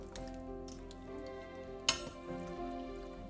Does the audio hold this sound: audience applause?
no